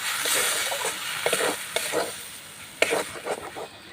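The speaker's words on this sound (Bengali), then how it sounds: "এবারে দেখুন নাড়চাড় করে একটু শুকনো শুকনো করে নেব" Turmeric powder and salt are stirred in a hot pan while making moong dal paratha filling, giving soft scraping strokes over a faint sizzle that stays close and steady, with sharper spikes now and then.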